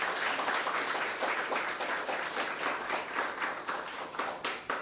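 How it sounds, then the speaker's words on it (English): A crowd at a student internship programme closing ceremony applauds steadily throughout, a dense patter of many hands clapping at an even volume. "Give yourselves a round of applause for getting here."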